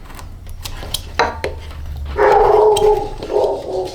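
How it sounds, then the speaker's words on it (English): A pet dog barks at someone arriving at the door during a woodcarving session, several sharp barks sounding from another room with a steadier, louder stretch of barking near the end. "My dog is in the background. He's letting me know that somebody's at the door."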